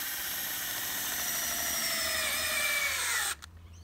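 A cordless drill with a hex driver whirs steadily at close range screwing a tent stake into the ground, its pitch sliding slowly downward as it bites, then cuts off abruptly near the end.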